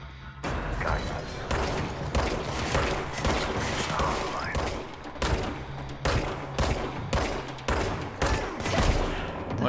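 Gunfire in the video game Control on PS5 bursts in repeated loud volleys of sharp shots, some in quick strings, over a busy layer of mechanical combat noise throughout.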